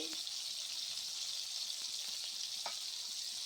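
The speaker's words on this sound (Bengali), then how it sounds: "রসুন কুচি দিয়ে একটু সামান্য ভাজবো।" Chopped ginger and garlic frying in oil for chicken chowmein, a steady, bright sizzle with a few light clinks of utensils.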